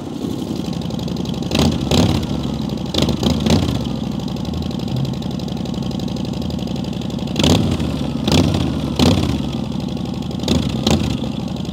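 A Harley-Davidson motorcycle engine idles with a deep, loud rumble and is blipped into short throttle revs in bursts, two early ones and then a cluster of revs later on.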